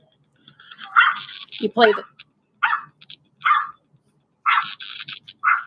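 A dog's bark recording plays back through a phone speaker, several short thin bursts alongside a person speaking nearby.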